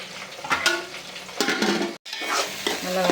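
Chopped mint and coriander are stirred into hot oil in a pan for chicken biryani. A steady sizzle runs throughout, broken up by repeated scraping stirs of a utensil against the pan, close by and moderately loud.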